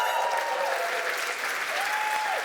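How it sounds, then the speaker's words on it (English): An award show audience at A MAZE. Berlin applauds in a dense, even roar of clapping that holds at a steady level throughout, with no voices standing out. "you can applaud as loudly or as quietly as you would like"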